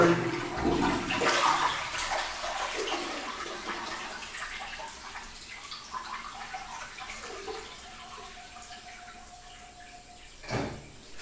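A toilet flushes to drain its water before a bidet installation in a wet room, a loud rushing surge that fades into a long gurgling refill with dripping, and a faint knock near the end.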